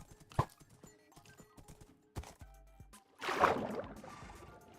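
Horses in the Minecraft video game, clip-clopping through hooves, with scattered sharp thuds and then a burst of splashing as they enter water; no talking.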